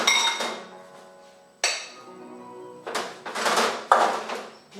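Fruits are mixed together in a salad bowl, giving several sharp, ringing clinks and knocks of utensils against the bowl, close and fairly loud, with quieter gaps between strikes.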